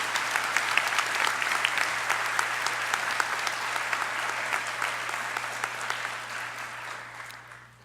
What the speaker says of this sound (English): let's give a nice round of applause to our faculty members